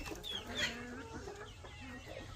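Big hens cluck and call nearby in a farmyard, giving a few short throaty notes over a steady background hum.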